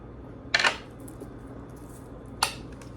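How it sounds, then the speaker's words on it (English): A knife cuts parsley on a cutting board with two brief, crisp taps about two seconds apart, close and fairly clear over a quiet room. "I want to show you how I cut"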